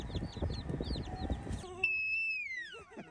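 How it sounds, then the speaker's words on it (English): Baby chicks cheeping: a busy jumble of high chirps and low rustling at first, then a few clear, drawn-out peeps that slide downward. "Yeah, they're baby chicks."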